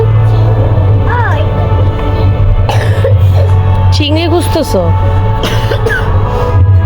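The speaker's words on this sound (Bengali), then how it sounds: "কাশতেছে রে আমার মেয়েটা" A young girl coughs a few times nearby, brief sharp bursts mixed in with people talking close by.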